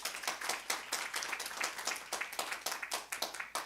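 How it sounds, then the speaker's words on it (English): Applause at an international conference roundtable, a dense run of many hands clapping in quick irregular bursts, fairly faint and steady throughout without voices. "Big applause"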